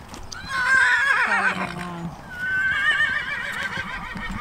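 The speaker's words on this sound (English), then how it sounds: "Canter, please, riders. All canter." Horses working at a canter in a show ring, with loud, close whinnies rising and falling over a steady background of movement and hoofbeats.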